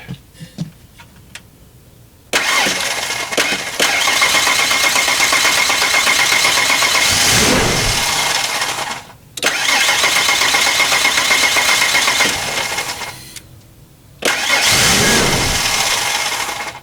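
A 1992 Ford Explorer engine cranked over and over in three long bursts, each a loud rough grinding roar cut off by a brief pause, recorded close with no talking.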